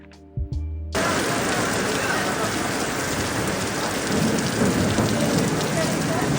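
Heavy rain from a passing storm pours down steadily, a loud, close wash of drops on surfaces, preceded by a couple of brief knocks before the downpour cuts in.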